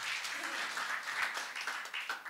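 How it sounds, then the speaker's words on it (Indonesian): Congregation in a church service bursting into steady applause, a dense, continuous patter of many hands clapping that holds evenly through the short moment. "Tepuk tangan yang meriah bagi ada kita."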